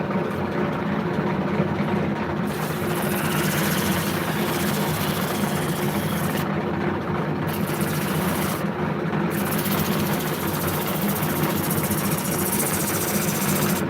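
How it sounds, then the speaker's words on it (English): Steady, continuous hum and whir of a wood lathe spinning a wooden cup as its edge is sanded with sandpaper, close and even throughout with no talking. "Now we're going to take some sandpaper. Okay, I'm going to work this edge."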